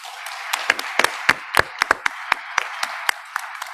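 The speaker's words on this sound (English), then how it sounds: "We can give them another round of applause." Audience applauding panelists at an evening event, a small group's scattered, distinct hand claps close by, uneven in rhythm and fairly loud.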